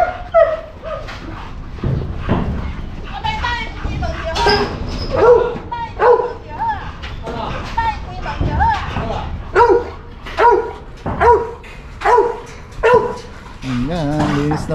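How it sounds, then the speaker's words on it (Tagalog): Several dogs bark and whimper nearby, with a run of regular yips toward the end, while people talk over them. "Kilala na tayo ng mga aso."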